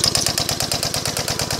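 A small two-cycle engine converted to run on steam chugs close by in a fast, even rhythm of sharp exhaust puffs, with no talking.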